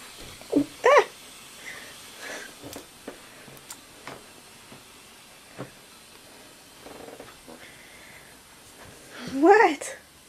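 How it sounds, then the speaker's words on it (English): A cat meows twice, a short call near the start and a louder, longer one near the end, with a person talking and faint household noises in between. "What are you meowing for?"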